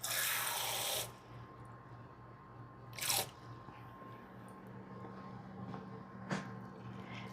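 A little under half a cup of water is poured into a sourdough starter, a one-second rush of splashing followed by quieter background with a couple of faint drips or clinks.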